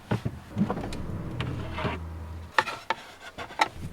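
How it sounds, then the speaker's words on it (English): Sliding side door of a van used for stealth camping on a rainy night, a series of knocks and rubbing scrapes as it is opened, then a low rumbling slide followed by sharp clunks near the end. "open this sliding door so I can lift the lid up of the toilet"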